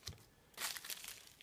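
Bubble wrap is pulled off an Axminster Rider 60 1/2 low angle block plane, giving faint, close crinkling and rustling in a short tap and then a longer crackly burst.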